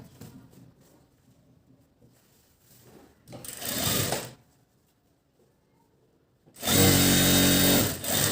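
Domestic sewing machine stitching a button placket onto a blouse, two separate runs of loud, steady motor whirr and needle clatter: a shorter burst near the start of the middle and a longer, louder run near the end, with quiet handling between.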